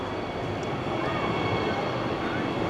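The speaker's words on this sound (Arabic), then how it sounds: "كما تشوفوا سيبون ترام تاعنا وصل." A tram rolls into a station at Aachen main station in Germany, a loud, close, steady rumble of wheels and motor filling the clip with faint voices in the background.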